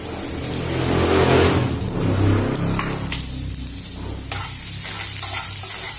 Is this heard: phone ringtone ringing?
no